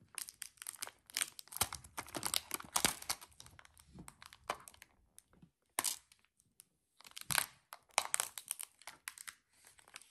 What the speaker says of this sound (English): So let's peel this off together.